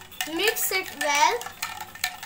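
Ice cubes and a spoon clink and rattle inside a glass of lemonade as it is stirred, a few close, bright knocks while a voice speaks over them.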